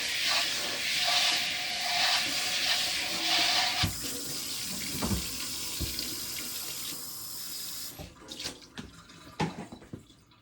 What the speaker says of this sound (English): Now I'm gonna wash out the bowl real quickly.